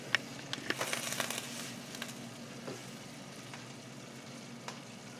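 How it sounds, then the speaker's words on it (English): Butternut squash ravioli sizzling in brown butter sauce, a steady soft crackle with a few sharp pops early on, then quieter frying continuing alone. "We're just going to put it directly into our brown butter sauce."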